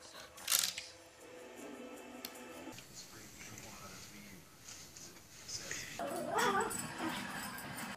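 Dogs whimper, yip and bark on a television channel made for dogs, with sharp bursts early and late over a steady background of speech and other broadcast sound.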